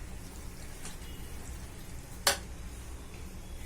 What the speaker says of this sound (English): I'm putting that and I'm going to let it fry for about 5 minutes